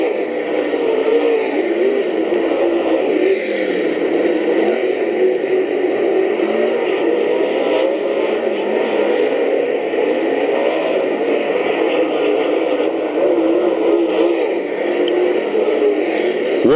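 Race cars roar around Bakersfield Speedway during a heat race, a loud, steady wash of engine noise holding without a break from start to finish.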